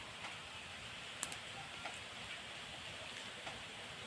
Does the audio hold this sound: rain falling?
yes